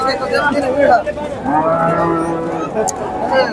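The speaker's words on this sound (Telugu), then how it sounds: "ఆవు అయితే బాగుంది భారీగా అయితే ఉంది" A cow at a cattle market lows in one long, loud moo with a steady tone, set against the murmur of people talking nearby.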